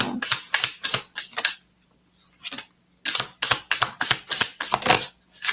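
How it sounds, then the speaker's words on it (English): A deck of tarot cards is shuffled in rapid riffling bursts, close and crisp, with a short pause in the middle and a brief spoken word. "I shuffle a lot."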